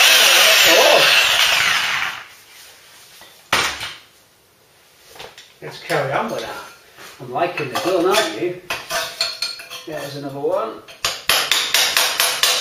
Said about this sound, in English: Definitely a job for the electric gun now.